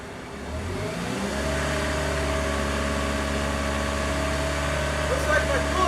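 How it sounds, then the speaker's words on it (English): Chevrolet Cobalt's secondary air pump pressurizing the exhaust, a steady droning hum that starts up after a brief rough rumble and holds constant and close. "The secondary air pump really pressurizes the exhaust system."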